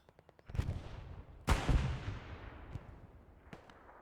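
Satchel charges blow up against a heavy tank in Company of Heroes, with two big blasts about a second apart followed by a long rumbling decay, after a few small light pops and a late sharp crack near the end.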